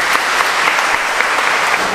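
Wedding guests break into steady, full applause, an even wash of clapping from a close crowd with no voices over it.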